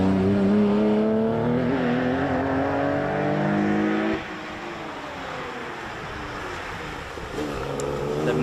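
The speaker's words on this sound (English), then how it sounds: "It's still roaring, the flat 6 motor up the hill." A 1985 Porsche 730 with a flat-six engine roars uphill on a rally stage. It revs high and loud, drops sharply at a gear change, then builds again as it climbs away.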